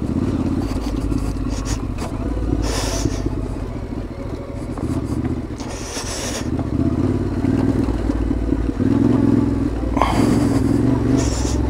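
A motorcycle rides over loose stones on a jeep track, its steady engine drone running throughout with scraping and clattering of shifting rocks under the tyres and occasional brief surges.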